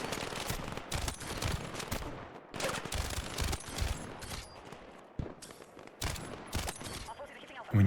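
Automatic rifle fire in Battlefield 6 multiplayer comes in repeated bursts of loud close shots separated by short pauses, with a voice talking over part of it.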